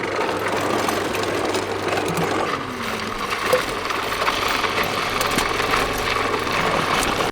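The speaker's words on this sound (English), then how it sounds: "the kitchen waste we put here into the grinder, and it goes directly into the biodigester" A kitchen-waste grinder feeding a biodigester runs steadily, a continuous close motorized whir and rattle with a low hum underneath that holds level throughout, with no voices.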